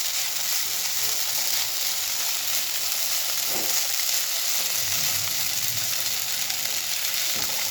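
Sabudana khichdi is gently stirred in a hot pan, giving a continuous loud sizzle and frying hiss with soft stirring scrapes, close up and without talk.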